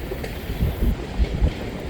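A BNSF or Union Pacific freight train locomotive rumbling at a distance, a steady low throttle drone with faint rhythmic wheel clatter and some wind noise, heard alone without talking.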